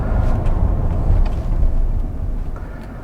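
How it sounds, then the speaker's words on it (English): A 2021 Ram 1500 Limited pickup truck brakes hard, giving a loud, continuous low rumble of road and tyre noise with wind buffeting that eases slightly toward the end. "We're gonna check out the brake right now."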